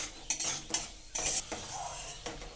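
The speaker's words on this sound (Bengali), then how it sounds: "আমার বাদামটা ভাজা হয়ে গেছে" Peanuts frying in a little mustard oil in a wok, with a soft sizzle under sharp, intermittent metallic scrapes and clinks of the stirring spoon, several strokes over a couple of seconds.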